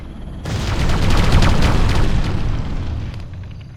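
A big explosion erupts as an enemy structure is destroyed in Ground Control, a loud sustained boom with a rolling rumble that swells and slowly fades over several seconds.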